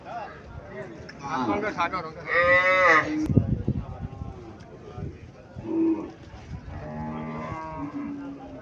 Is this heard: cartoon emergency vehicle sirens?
no